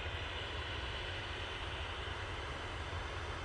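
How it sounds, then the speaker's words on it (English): An Emirates Airbus A380 departs Manchester Airport for Dubai, heard as a faint, steady, distant broadband roar and rumble that holds evenly throughout, with no voices. "It's our second A380 departure of the show today"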